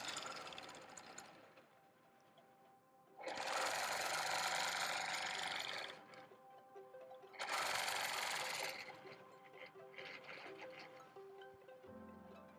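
Sewing machine stitching a quilt, two sustained loud runs of fast mechanical whirring and needle clatter separated by quieter idle hum and pauses, close up with no voices.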